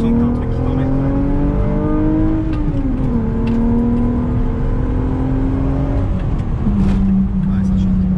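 A VW Corrado VR6 in clinical condition revs hard past 4000 rpm, the engine note climbing and settling through gear changes, loud and close from inside the car, with people talking over it.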